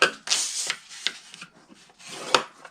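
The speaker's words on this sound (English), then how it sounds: "we're going to score the 4 1/4 by 4 1/4 at 1 on all 4 sides" Paper being scored on a scoring board with a bone folder, brisk rasping strokes in short bursts with pauses between, close and fairly soft, no talking.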